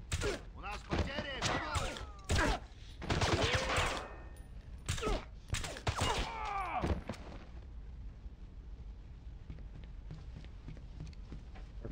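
Sharp bursts of rapid video game gunfire from James Bond 007: Blood Stone crack repeatedly in quick clusters over several seconds, then fade into a quieter background hum.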